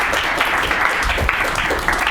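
An audience applauds a musician at an unplugged performance, a dense, continuous burst of clapping from many hands close by.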